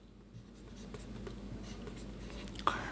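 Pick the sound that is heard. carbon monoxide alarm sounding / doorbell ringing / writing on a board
writing on a board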